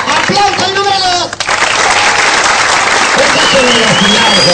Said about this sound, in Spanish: ¡Aplausos al número dos!